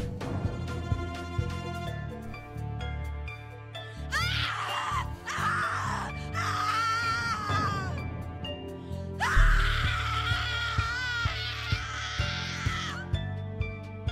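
Screaming from a character in The Cat Lady horror adventure game, bursts of high, strained vocal cries over a dark piano and synth score, with one long scream late on; no talk.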